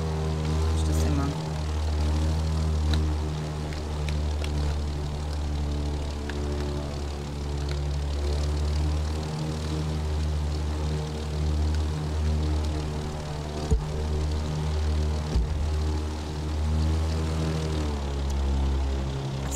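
A propeller airplane engine in the video game The Crew 2 drones steadily and evenly, a continuous harmonic hum that holds throughout with only slight shifts in pitch.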